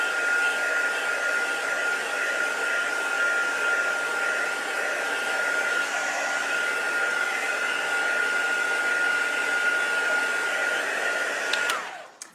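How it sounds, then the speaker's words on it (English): A heat tool blows continuously to dry the painted background of a mixed media card, a loud, steady whooshing whine with a sustained tone that runs uninterrupted before cutting off abruptly at the end. "So I'm just going to dry that background first."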